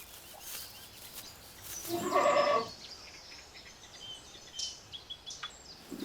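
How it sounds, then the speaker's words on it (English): A goat lets out a single drawn-out bleat in the middle on seeing its food arriving, with quiet background noise and a few faint knocks afterward. "This bleating was recorded when a goat could see its food arriving"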